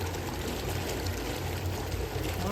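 Rainwater after a heavy downpour runs into a septic tank, making a soft, steady pouring and trickling wash that carries on unbroken at low volume.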